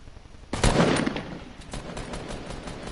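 Rapid gunfire bursts in a first-person shooter, a loud volley opening sharply then trailing into repeated shots and clatter at a steady distance, with no talk over it.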